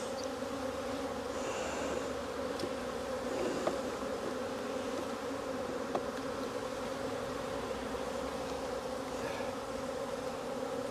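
Honey bees buzz steadily and densely around an open hive during an inspection, a continuous close drone with no talking.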